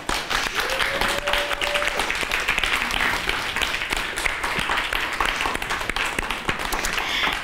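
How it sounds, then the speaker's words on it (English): A room of people applauds authors standing to be recognized at a book celebration, dense continuous clapping that holds at an even level for several seconds, with a brief tone over it early on. "Let's give them a round of applause."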